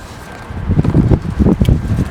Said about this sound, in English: love it when the wind kicks up right in the middle of applying film